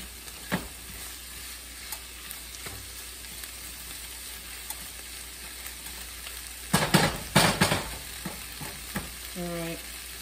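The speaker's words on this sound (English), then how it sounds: "Let's stir this around." Tomato bacon jam sizzles in a pan under a constant low fry, with scraping stirs and clatters of a utensil against the pan, clustered loudest in a brief burst partway through.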